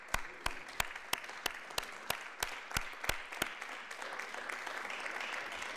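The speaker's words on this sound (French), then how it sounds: "Maiden speech, je propose pour l'applaudir." Members of a parliament in plenary session applaud a maiden speech, starting with slow, evenly spaced single claps that gather into a soft, steady round of applause in a large hall.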